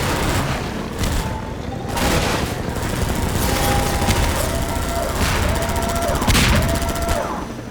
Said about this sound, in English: The alarm that sounds like it's screaming in agony, the explosions and the fire.